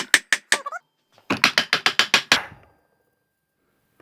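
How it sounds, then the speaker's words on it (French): A mallet with a wooden or rubber head repeatedly strikes a part of a booster rocket engine to loosen it. Three sharp knocks are followed by a pause, then a rapid run of about eight close, ringing blows, and no one speaks. "je vais prendre un maillet, donc avec un bout en bois ou en caoutchouc, ça existe aussi en caoutchouc, et je vais venir frapper"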